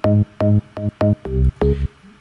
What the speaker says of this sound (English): this is a sample bass shot.